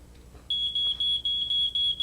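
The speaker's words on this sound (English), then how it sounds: "Now we know that the smoke detector is working." A loud, high-pitched smoke alarm beeps in a steady, insistent rhythm after a half-second of quiet, with a few brief gaps between the piercing tones.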